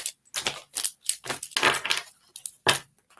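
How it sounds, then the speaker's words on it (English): Oracle cards are shuffled by hand up close, a run of crisp rapid riffling bursts and papery slaps in uneven rhythm, separated by brief silences. "One more shuffle."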